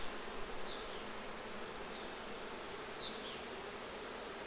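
Honey bees buzzing during an open hive inspection on a farm, a dense continuous drone of many wings close to the microphone, with occasional individual bees whizzing past, no talking.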